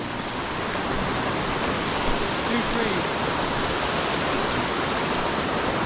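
Rushing river rapids in the Wind River Range keep up a steady broadband roar of churning whitewater, loud and continuous from start to end with no voices.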